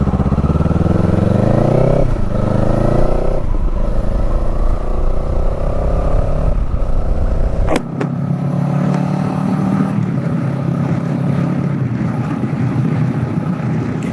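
A 2024 Kawasaki Eliminator 450 motorcycle engine revving up through rising pitch and then settling into a steady busy drone, with heavy wind rush over the microphone throughout.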